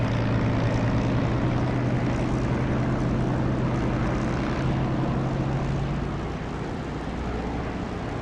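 A propeller aircraft engine in the DCS flight simulator game, a loud steady droning hum with a strong low tone that holds then eases slightly near the end.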